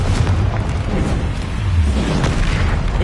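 Repeated Confringo blasting-spell explosions in Hogwarts Legacy roll together into a loud, continuous series of booms and bursts. Heavy low rumble runs through the whole stretch, with no talk over it.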